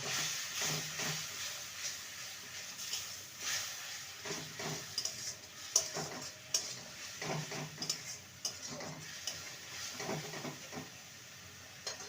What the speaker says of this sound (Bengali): আর জিরে গুঁড়ো হাফ স্পুন করে দুটোই দিলাম ভালো করে কষিয়ে নেব